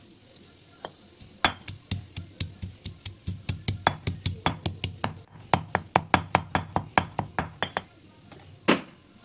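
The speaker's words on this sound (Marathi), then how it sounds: "तोपर्यंत लसण अद्रक कुटून घ्यायचं।" Garlic and ginger are pounded by hand in a fast, even series of sharp thuds, about three or four per second, close and clear, with a short pause midway before the strokes resume.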